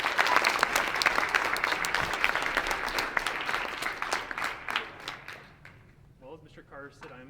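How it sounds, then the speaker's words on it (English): A crowd at an elementary school winter sports awards applauds the girls basketball coaches, loud dense clapping that thins and fades out, with a voice starting to speak as it dies away. "Let's give them a round of applause, huh?"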